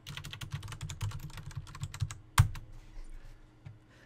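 A computer keyboard being typed on as a network command is entered, a quick run of close, crisp key clicks followed by one sharp louder keystroke, then a few sparse taps.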